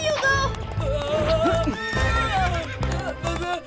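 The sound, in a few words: horse neighing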